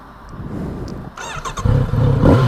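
A 2018 Kawasaki Z900RS motorcycle engine idles and then revs freely in quick, rising bursts, close and loud, with the pitch climbing and falling between blips.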